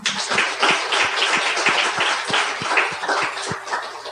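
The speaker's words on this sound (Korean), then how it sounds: "박수와 영광을 올립시다" Church congregation applauding during a sermon, a dense spread of clapping with a steady rhythmic beat running underneath, moderately loud and sustained for around four seconds.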